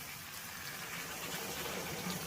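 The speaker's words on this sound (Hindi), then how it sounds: "गरम पानी देदबा।" Hot water poured into a pan of cabbage, potato and green pea curry, a steady rushing gush of liquid at close range, continuous for a couple of seconds with no talk.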